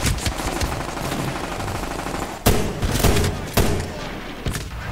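A heavy gunner lays down sustained machine-gun fire in Medal of Honor Warfighter, a loud, dense rattle of rapid shots punctuated by several sharper, heavier blasts close by.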